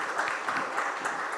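Short burst of applause from the audience at a founding ceremony of an academic society, a steady moderate patter of clapping hands heard briefly on its own.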